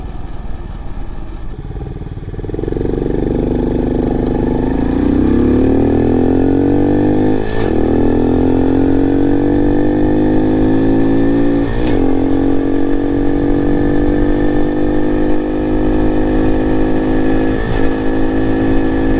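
A Honda CT70 clone minibike engine runs steadily and loud while riding, with rising revs through several gear shifts marked by brief dips and climbs in pitch, heard close up with no talk.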